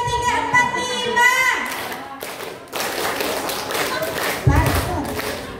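Group of children clapping in a counting rhythm game during a school workshop, sharp claps in quick sets mixed with spoken counting and classroom chatter.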